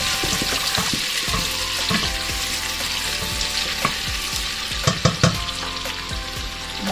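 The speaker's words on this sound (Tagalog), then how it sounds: "Pakaluto ko muna tong ating bawang sibuyas." Onions and garlic sauté in a pan with a steady, close sizzle, broken by scattered clicks and clatters of stirring against the pan.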